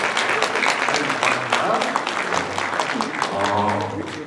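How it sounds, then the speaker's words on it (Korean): An audience at a Korean book concert and publication event claps steadily throughout, a dense patter of hands, while someone talks over the applause. "우리 이 두 분께 뜨거운 박수 부탁드리겠습니다."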